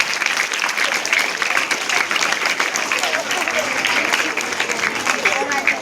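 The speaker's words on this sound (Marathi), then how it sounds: "सर्वांनी ह्या 7 मुलांसाठी टाळ्या वाजवा जोरात" Loud, dense applause from an audience at a solid waste management awareness program under the Swachh Maharashtra Mission, honoring seven students, with sustained clapping filling the whole stretch and voices mixed in underneath.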